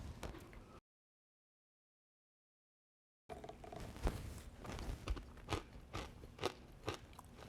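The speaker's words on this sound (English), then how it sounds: "I love a roasted chickpea as a crunchy little snack" Roasted pumpkin-spiced chickpeas crunched between the teeth, up close, with a brief burst of crunching, a gap of silence, then a run of repeated crisp bites and chewing crackles.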